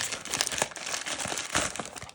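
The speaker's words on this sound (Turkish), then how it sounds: "Şimdi makasla falan hiç uğraşmadan hızlı bir açılışa geçeceğiz." A shipping package is ripped open by hand without scissors, giving a close, continuous run of crinkling plastic with repeated sharp tearing bursts.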